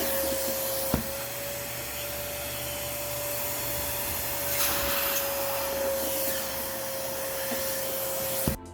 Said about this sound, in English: easily absorb the liquids and avoid damaging the fabric since you need to press a little bit hard while moving the vacuum nozzle